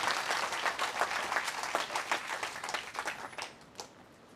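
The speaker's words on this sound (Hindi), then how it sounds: "जोरदार तालियां उनके लिए।" An audience at a health and wealth talk gives a vigorous round of applause, closely packed claps pulsing in quick bursts before tapering off to a few scattered claps.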